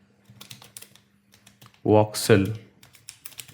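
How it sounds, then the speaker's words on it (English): Rapid clicking keystrokes on a computer keyboard come in quick, uneven bursts, with someone briefly talking over the typing partway through. "So I'm typing"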